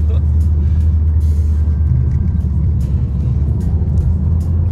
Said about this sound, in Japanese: 確かになんかエンジン音が変わった